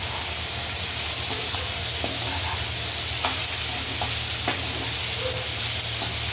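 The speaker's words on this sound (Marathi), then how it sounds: "आता त्याच्यामध्ये आपण हे व्हेजिटेबल घालून घेऊया." Mixed vegetables stir and fry in an onion-tomato masala, giving a steady close hiss of sizzling with occasional soft scrapes and knocks from a spoon in the pan.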